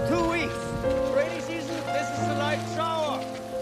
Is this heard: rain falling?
yes